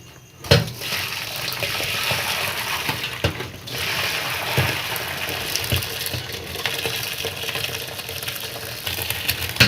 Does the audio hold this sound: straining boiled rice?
yes